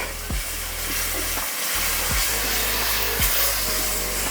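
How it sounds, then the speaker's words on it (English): Cream ladled into a bubbling roux while being whisked, a loud continuous hiss and sizzle with a few low thumps of the ladle or whisk against the pan, heard close with no speech. "It's gonna bubble up like that on you, and we're just gonna whisk."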